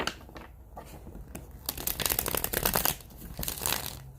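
Steady close-up shuffling of tarot cards with crinkly rustles and quick ticking riffles building in the second half, no talking.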